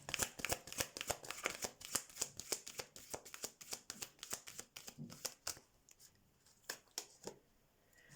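A deck of oracle cards is shuffled by hand in quick, crisp riffling bursts that are close and fairly quiet, then slows to a few scattered card flicks.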